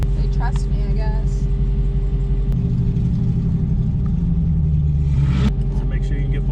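A Dodge Demon drag car idles with a loud, deep low rumble, its pitch shifting as it blips slightly partway through, with brief voices over the engine.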